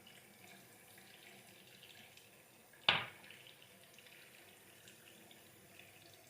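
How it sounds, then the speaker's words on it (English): A razor blade is rinsed under a running tap in one short burst of splashing water. Quiet, low room noise comes before and after it. "I'll need to rinse out that blade"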